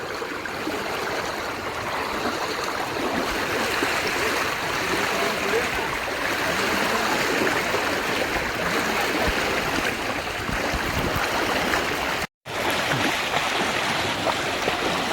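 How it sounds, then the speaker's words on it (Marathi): Forceful stream water rushing at Talaghar waterfall in Roha after heavy rain, a dense, loud, continuous roar close by that fills the whole stretch, broken only by a momentary dropout near the end. "पाणी तर भरपूर आहे खतरनाक खतरनाक पाणी आहे"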